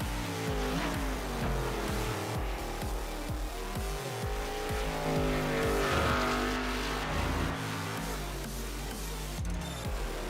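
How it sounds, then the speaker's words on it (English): Stock cars racing at Brands Hatch in a sim racing game, several engines droning and shifting pitch together with occasional tire squeal, loud and continuous throughout. "the final corner, the number 38 car crossing the line"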